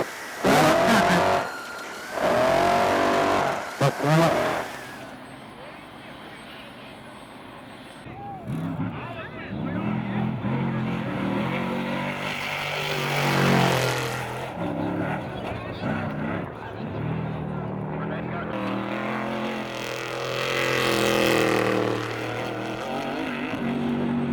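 A trophy truck's racing engine roars and revs at an off-road race fuel stop during the San Felipe 250, loud and rising and falling over nearly half a minute, with people talking throughout.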